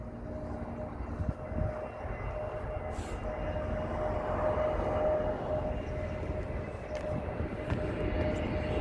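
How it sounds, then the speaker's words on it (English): A British Airways Airbus A320 passes at London Heathrow, its engines a steady, moderately distant roar that swells slightly mid-pass and then holds under faint background noise. "That was a British Airways Airbus A320"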